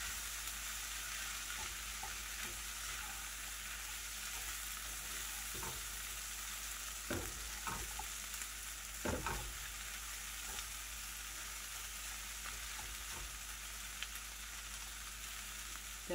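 Meat fries steadily in a pan for micecito with New Mexico green chile, a constant sizzling hiss broken by a few sharp pops and scrapes, close and alone with no talking.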